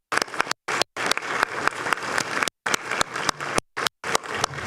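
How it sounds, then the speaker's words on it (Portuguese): Applause in a Brazilian Senate plenary session, broken by several short silent gaps, with dense clapping filling the rest of the clip and no speech over it. "Eu gostaria de pedir uma salva de palmas para aqueles que já contribuíram muito para o nosso país."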